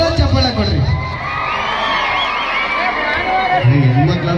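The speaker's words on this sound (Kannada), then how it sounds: "ಒಂದು ಜೋರಾದ ಚಪ್ಪಾಳೆ ಕೊಡ್ರಿ" A crowd at a village fair comedy show in Malligere cheers and whoops, shrill children's shouts rising over loud, continuous hubbub for several seconds.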